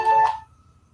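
A telephone rings during an online vehicle diagnostics webinar: a single short, loud electronic tone close to the microphone that stops abruptly and leaves near silence.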